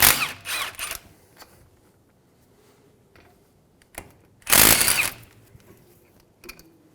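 A power tool with a 12mm socket whirs in short bursts while removing the front brake caliper bolts on a 2003–2008 Honda Pilot, two quick close bursts at the start and a longer one later, with quiet gaps between them.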